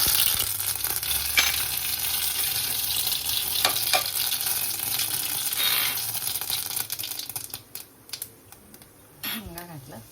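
Mustard seeds sizzle and crackle in hot oil in a kadai, a dense, close frying hiss with rapid popping that thins out toward the end.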